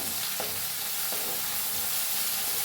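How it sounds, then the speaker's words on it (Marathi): Ground garlic with cumin seeds and asafoetida is stirred and roasted in a pan for kadhi. A constant close sizzle carries a couple of brief spoon scrapes, with no talking. "त्याला हलवून भाजून घेऊया चांगलं"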